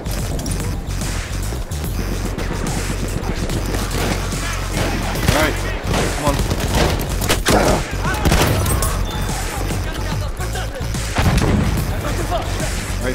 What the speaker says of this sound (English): Oh, this shotgun, why have I never used this before?